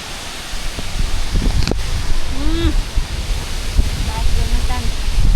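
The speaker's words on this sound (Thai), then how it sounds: "น้ำตก" Waterfall at a popular beauty spot in southern Laos, a broad steady rush of falling water filling the background, with voices talking and a few whistle-like calls over it.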